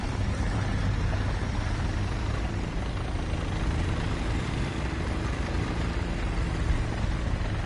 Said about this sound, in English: Sounds like it's a friendly helicopter, based on the fact that no one's shooting it.